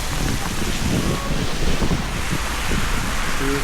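A waterfall pours down in the Malshej Ghat in the Sahyadri hills, making a loud, steady, close roar of rushing water that fills the whole moment without pause.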